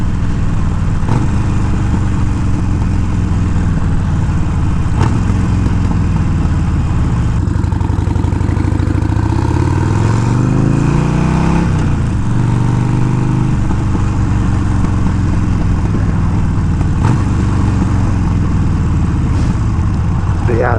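A 2020 Harley-Davidson Iron 1200 fitted with new loud exhaust tubes, its engine running loud and steady throughout with a few rising and falling revs in the middle, a rumbling note close by.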